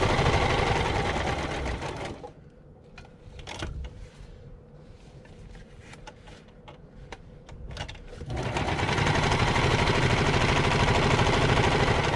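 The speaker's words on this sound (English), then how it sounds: "Then I'm going to sew around it really quick again." A sewing machine stitches quickly around a handmade journal, a loud steady whir at the start and end with a quieter gap of small clicks and handling noise between.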